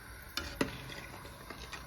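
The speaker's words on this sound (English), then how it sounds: "I'm just stirring it slowly just to ensure that it's thickening up" Hominy corn porridge stirred slowly in a pot, soft close scrapes and a couple of light knocks of the spoon against the side, quiet and brief.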